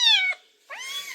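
A cat meows twice, close and clear: a drawn-out call, a short pause, then a second rising meow.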